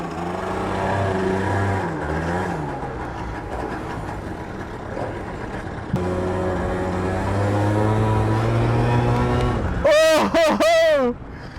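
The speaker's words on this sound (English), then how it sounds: "Oh! The straight cut gears." A Yamaha BWs 100 scooter built up with a Malossi 125cc kit whines through its straight cut gears, pitch rising and falling as it revs, loud and close, with a voice talking over it.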